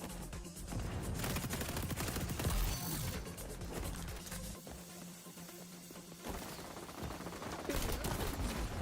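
Rapid, sustained automatic gunfire strafing in the online shooter xDefiant, dense and loud throughout with brief lulls around the middle before picking back up.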